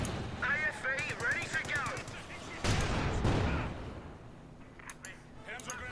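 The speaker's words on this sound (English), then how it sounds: "Mortar is firing in the center." Company of Heroes 2 battle with rapid machine-gun bursts and a heavier mortar thump mid-way, dense gunfire under a voice, fading toward quieter scattered shots.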